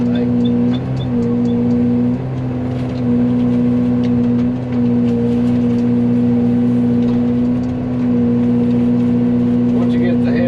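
Excavator fitted with a Fecon mulching head runs as a loud, steady mechanical drone with a strong sustained tonal hum, holding near-constant level throughout while someone talks over it.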